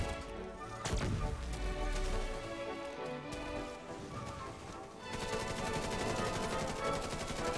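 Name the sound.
gunfire in the video game The Division 2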